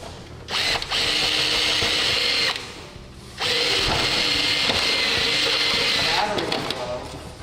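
Power drill whirring loudly in two long bursts, roughly two and a half seconds each, separated by a short pause, during robot building at a robotics competition workshop; people talk in the background.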